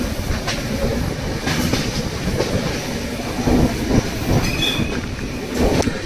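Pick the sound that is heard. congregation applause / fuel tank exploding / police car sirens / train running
train running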